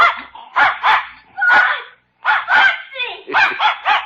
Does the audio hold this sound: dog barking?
yes